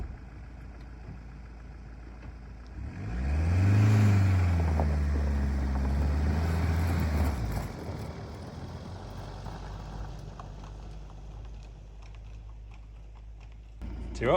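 A van fitted with snow chains revs and pulls away up a wet, slushy hill at about one degree, its engine swelling loudly for several seconds and then settling into a lower steady drone.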